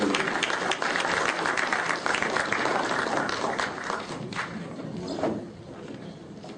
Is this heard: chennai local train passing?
no